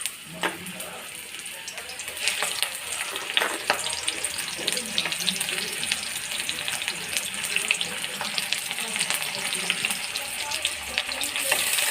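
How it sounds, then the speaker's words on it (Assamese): Chopped onions frying in hot refined oil, a steady close crackling sizzle with faint clinks of stirring running throughout without any talk. "এতিয়া ইয়াতে মই পিঁয়াজখিনি দি দিম।"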